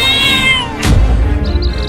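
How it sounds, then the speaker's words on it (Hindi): A mother cat yowls and caterwauls while fighting a lion, a loud harmonic wail that breaks into a harsh burst of snarling scuffle, close and alone without talk. "उन बिल्लियों की माँ उस शेर से लड़ गई है अपने बच्चों को बचाने के लिए"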